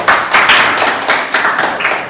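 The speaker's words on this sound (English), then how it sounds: "Clap your hands," Children clap their hands in a quick, steady rhythm of about nine claps, loud and close, with no talking over it.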